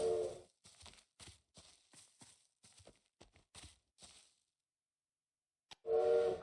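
A bird in the video game Little Witch in the Woods mimics a train whistle: two sustained whistle-like tones, one at the start and one at the end, around a series of short rhythmic bursts and a brief silence.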